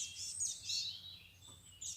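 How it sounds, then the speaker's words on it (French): A small sparrow chirps high and thin outdoors in a wooded countryside setting, with a few quick twittering calls in a row, faint and fairly distant against a quiet background. "Ça c'est un moineau, Hein. un petit moineau."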